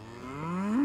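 A single cow lets out one rising moo close by on a farm, fairly faint, with no voices over it.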